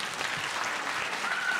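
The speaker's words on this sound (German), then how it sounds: "Gebt einen großen Applaus" An audience at a poetry slam applauds, a brief, dense burst of clapping that stays even and fairly loud throughout.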